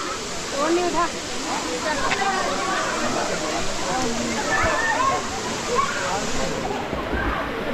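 Ermayi waterfall at Didupe in the monsoon, swollen with water, roars as a steady broadband rush with sloshing and splashing throughout, while voices chatter over the constant noise.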